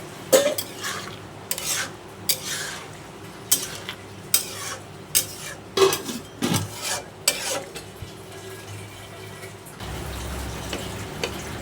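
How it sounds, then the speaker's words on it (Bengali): A spoon stirs a pointed gourd and prawn curry in a pan, scraping in a dozen or so irregular strokes over a soft sizzle, and the stirring gives way to a gentle bubbling near the end. "বন্ধুরা ঝোলের পানিটা দিয়ে নেড়ে চেড়ে আমি কিন্তু ঢাকা দিয়ে দিছিলাম"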